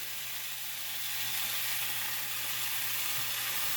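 Bacon slices frying in a pan give a steady, hissing sizzle that holds at an even level throughout, close by, with no voices over it.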